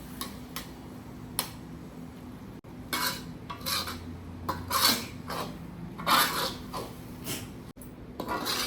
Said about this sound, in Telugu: ఈ పసుపు వాసన పోయేదాకా కూడా దీన్ని మంచిగా వేపుకుందాము